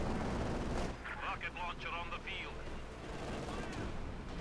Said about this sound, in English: Katyusha barrage off here.